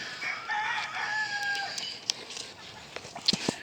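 Andalusian chickens in backyard brood pens crow in one drawn-out call, followed by scattered short clucks and sharp sounds nearby.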